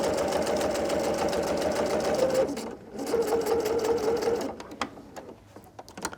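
A sewing machine stitches fabric for a drawstring backpack in two steady runs, each a close, rapid whirring hum, separated by a brief pause and ending with a few clicks and quieter handling.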